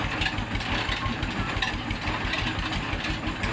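Tractor engine running at a village flour and oil mill, a steady, loud low rumble with continuous mechanical drone and clatter filling the whole clip, no talk.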